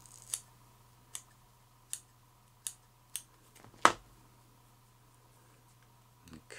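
Scissors snipping fly-tying material for a Jacklin Salmonfly, a series of six crisp, close cuts at a steady pace with one louder snip near the end, over a faint steady hum.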